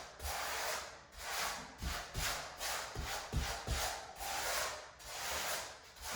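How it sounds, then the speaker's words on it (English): A grout trowel is dragged side to side across tiles, giving a steady gritty scraping and rubbing. The strokes repeat in an even rhythm, close and moderately loud, with a few soft knocks and no talk. "I kind of use the side of the grout trowel there, but then I'm going to go side to side."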